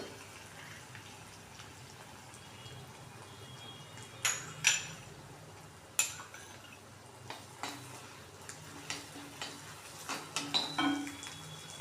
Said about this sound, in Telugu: ఇప్పుడు దీన్ని బాగా కలుపుకొని బటర్ కూడా వేయాలి దీనిలో